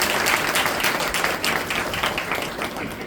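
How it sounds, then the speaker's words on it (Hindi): An audience at a Karva Chauth spiritual discourse gathering breaks into dense, sustained applause, many hands clapping together and tapering slightly toward the end. "आज की करवा चौथ के लिए तालियां हो जाए जरा"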